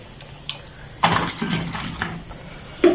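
Crunchy pakoras being dished out onto plates, with close, bright clinks of dishes and cutlery in a quick cluster, then a final louder clatter.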